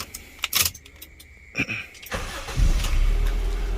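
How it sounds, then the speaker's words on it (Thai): A Honda Civic Dimension with an electrical fault and bad ECU data cranks with a few clicks and rattles, then catches and settles into a loud, steady idle, close by with no talking. "สตาร์ติดเรียบร้อยนะครับ อ่า Honda Dimension นะครับ"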